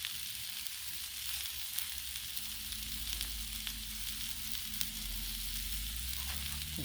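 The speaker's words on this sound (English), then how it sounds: "Kielbasa and onions and peppers on the griddle are just" Kielbasa, onions and peppers sizzle steadily on a hot Blackstone griddle, a dense, continuous crackling hiss with small pops, close and even throughout, with no talking.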